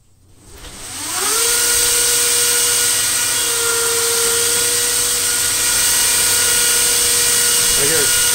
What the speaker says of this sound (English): So I'm just going to start it up real quick for you here.